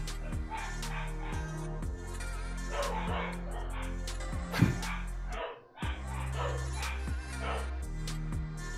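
Dogs bark repeatedly indoors late at night, with a series of short, sharp barks in a loose rhythm over a busy, steady background.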